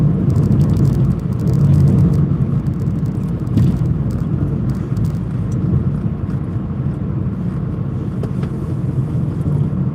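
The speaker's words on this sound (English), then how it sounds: "Having a nice little drive around before the football starts" A car driving along a road on the way to an evening football match, with a steady engine and tyre rumble throughout. The level holds constant, with a few faint clicks and light bumps and no talk.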